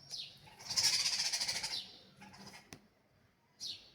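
Birds flutter and chirp nearby, with a burst of wing flapping followed by a few short high calls and a brief rustle.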